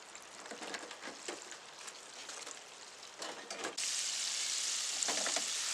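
Sea bass pieces frying in oil at about 365 degrees, a close, steady sizzle broken by bursts of bubbling crackle, which swell into a louder, denser hiss partway through.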